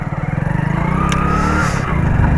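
A motorcycle idles nearby in neutral with a pulsing engine throb, then the revs rise into a smooth acceleration as it pulls away, the engine note climbing and staying fairly close throughout.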